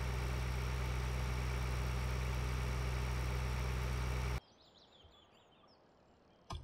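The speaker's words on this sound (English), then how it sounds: "Crazy tractor coming through." A tractor engine in the video game Farm Simulator 2013 drones loud and steady for about four seconds, then cuts off abruptly, leaving a quiet background with a brief sound near the end.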